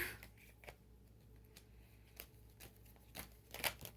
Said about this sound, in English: I'll do a quick shuffle here